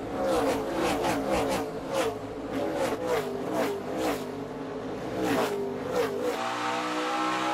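NASCAR race cars roaring past at Richmond International Raceway in 2017, engines revving loud and continuous with repeated rising pass-by sweeps, ending in an abrupt cut to quieter sound near the end.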